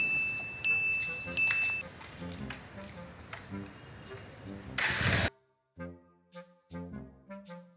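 A two-wheeler engine cranks and catches, then runs roughly for a few seconds before cutting out abruptly and stalling. Brief voices and soft sounds follow in the quiet after.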